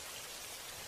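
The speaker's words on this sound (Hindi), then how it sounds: "बारिश काफ़ी ज़्यादा तेज़ हो रही थी।" Heavy rain in an animated children's story, a steady dense hiss of downpour with no voices, fairly faint throughout.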